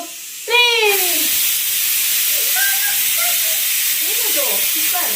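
A kitchen pressure cooker lets out a short rising whistle followed by a steady, loud hiss of escaping steam that runs on without a break.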